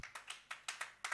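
A church congregation at a Sunday service clapping in time, several crisp, evenly spaced claps over about a second, faint and with no voices.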